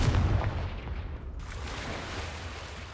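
Confringo fire spell blast from the Hogwarts Legacy video game, a loud booming burst at the start that rumbles and fades into a steady low roar.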